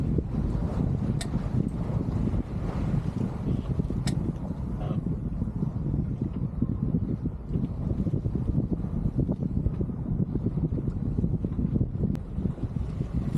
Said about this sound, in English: here we are sailing along on a beam reach, which means the wind is coming across the side of the boat